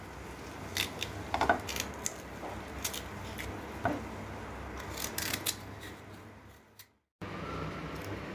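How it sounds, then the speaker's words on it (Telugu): A knife cuts a raw mango into pieces, producing a series of soft, close crisp snicks and taps at an irregular pace over a quiet background with no talking. "అది కట్ చేసి ఇప్పుడు పీసెస్ కట్ చేసుకుందాం వీటిని"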